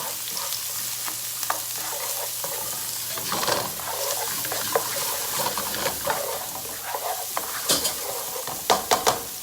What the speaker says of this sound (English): and we're gonna saute this quick